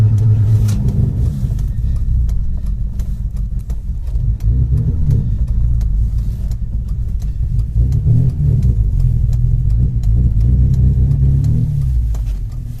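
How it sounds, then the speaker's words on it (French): A Ford XR3i cabriolet engine that hesitates when accelerated, revved with repeated throttle blips; a loud, close, continuous low rumble swells and dips unevenly throughout, with no talking. "Il faut vraiment mettre des coups d'accélérateur pour rentrer dans les tours."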